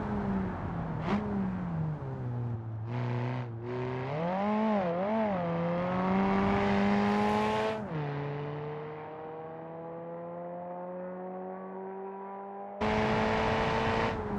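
The 800-series track car engine in BeamNG.drive, based on the sedan model, drones and revs through rising and falling gear pulls, then holds a steady tone before a sudden louder burst near the end, with no talk.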